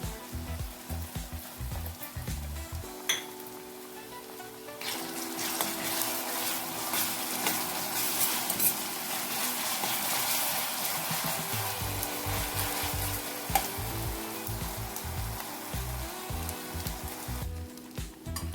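Ginger garlic paste fries in a pan for a country chicken coconut curry, a broad hissing sizzle that swells in the middle stretch over a low rumbling hum, with occasional clinks.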